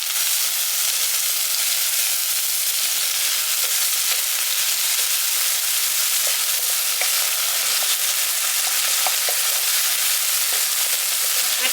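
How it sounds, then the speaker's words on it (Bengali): Chopped tomatoes fry with ginger garlic paste in a pan for village-style prawn biryani. A steady, close sizzle carries on throughout, with small pops and occasional stirring, and no voices. "এবার এর মধ্যে দিয়ে দিচ্ছি টমেটো কুচোনো।"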